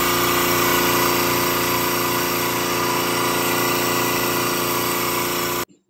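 An electric hydrostatic pressure test pump running on water, giving a loud, steady motor drone with a fine pulsing texture that holds unbroken for several seconds and then cuts off abruptly.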